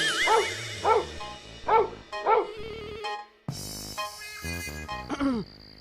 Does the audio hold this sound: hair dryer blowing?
no